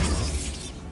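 A Bombarda spell in Hogwarts Legacy bursts in a single loud, close blast with a shattering crackle that fades quickly within a second.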